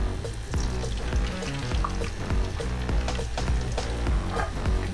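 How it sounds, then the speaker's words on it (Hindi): A cup of oil poured into a hot kadai on a stove, giving a loud, steady sizzle and crackle that continues without pause and with no one talking. "कढ़ाई चढ़ा लिए चूल्हे पे, 1 कप ऑयल डाल देंगे"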